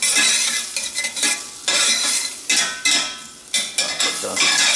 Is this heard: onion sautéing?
yes